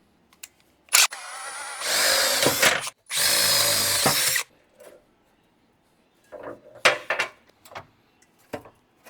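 Power tool setting rivet nuts during repairs: two loud whirring bursts of a couple of seconds each, followed by scattered clicks, knocks and short handling noises, close by.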